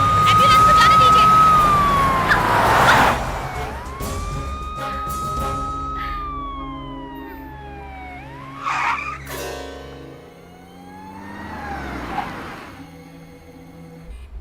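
An ambulance siren wails through traffic, a loud rising and falling tone that sweeps up and down several times, with vehicle noise underneath and people talking over parts of it.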